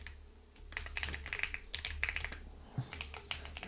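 Computer keyboard keys clatter in quick, irregular bursts while code is typed, close and moderately loud, with brief pauses between runs of keystrokes.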